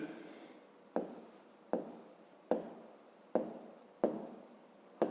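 Numbers written by hand during a fifth-grade maths exercise, heard as six sharp scratchy strokes at an even pace. They are close and quiet, each stroke fading before the next.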